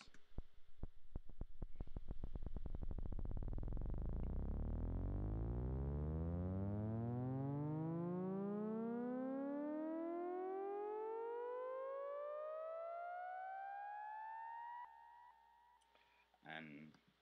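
A synth riser effect sweeps one note steadily upward from a deep low pitch to a high one over many seconds. It fades slowly and cuts off near the end, followed by a brief click.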